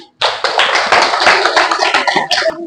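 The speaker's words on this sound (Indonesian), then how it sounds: "tepuk tangan." A classroom of students claps together, a brisk burst of close, fairly loud applause that starts abruptly and continues for a couple of seconds before thinning out.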